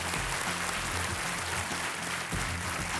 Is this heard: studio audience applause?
yes